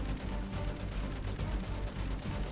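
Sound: Jawbreaker shotgun firing in MW3 Zombies video game

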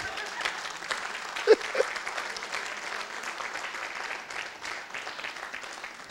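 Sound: congregation applause

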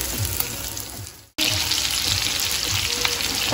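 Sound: meatballs sizzling as they brown in a pan

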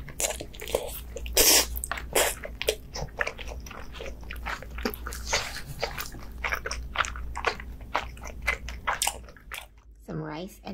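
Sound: biting and chewing bluefin tuna sashimi with rice

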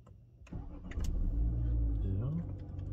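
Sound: Renault Captur car engine starting

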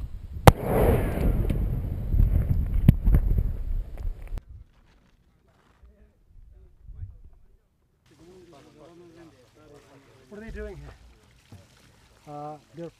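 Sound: controlled explosion destroying IEDs in Afghanistan

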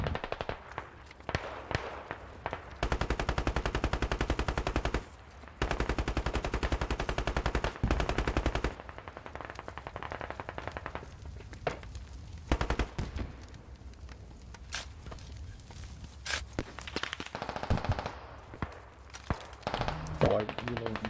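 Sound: gunfire from a gun in a video game

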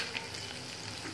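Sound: frying masala idli tempering in a pan

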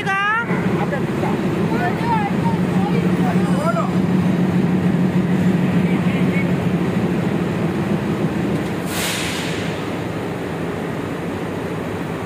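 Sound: diesel locomotive engine running during repair

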